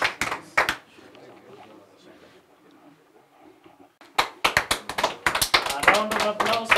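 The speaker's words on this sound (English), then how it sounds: "We can give them a round of applause as they receive the checks." A scattered round of hand claps rings out as girls receive checks at a foundation ceremony, loud sharp claps at the start and then a denser, louder burst after a quiet stretch.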